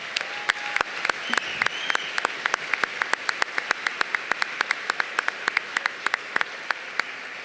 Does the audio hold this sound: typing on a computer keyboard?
no